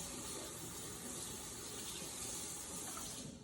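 Water running steadily from a tap while something is rinsed, a continuous faint splashing rush with no pauses and no talking.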